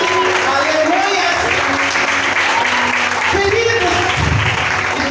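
A church congregation applauds steadily throughout while someone speaks loudly over the clapping.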